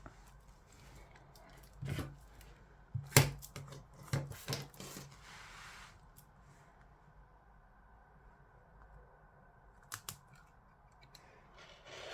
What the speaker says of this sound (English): So just cut around your tree.